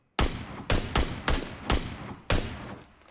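Gunfire in the mobile battle royale PUBG Mobile: about six loud, booming shots ring out at uneven intervals, each with a short decaying tail, and no speech can be heard.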